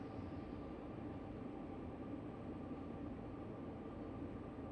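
A Siemens Charger locomotive runs on Sherman Hill in Train Sim World 3, a faint, steady rumbling drone with a constant hum and no distinct events or voices.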